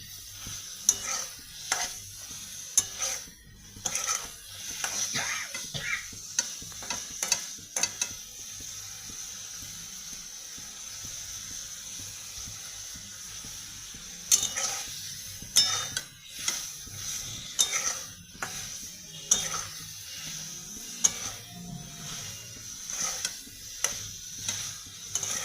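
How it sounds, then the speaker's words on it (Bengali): Paneer and kabuli chana masala stirred and fried in a pan, a spatula scraping in bursts of clicks and scrapes over a soft, steady sizzle, close and alone without talk. "যতক্ষণ না জলটা শুকিয়ে যায় ততক্ষণ কষে নেব"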